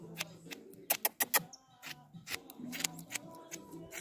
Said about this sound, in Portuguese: A tesoura tá cega.